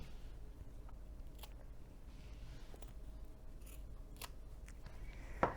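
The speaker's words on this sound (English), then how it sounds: "we're going to trim the overhang of the zipper tape on either side" Scissors snip the excess zipper tape overhang on both sides while sewing a hinged zipper pocket into a bag, giving several quiet, separate cuts over a low steady background. The last cut near the end is the sharpest.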